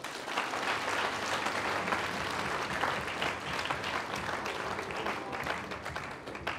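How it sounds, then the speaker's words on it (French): A congregation at a Salesian perpetual profession ceremony applauds loudly for their confrere Damien, a dense, sustained wash of many clapping hands that fills the room for several seconds. "Je voulais aussi qu'on applaudisse très fort pour notre confrère Damien."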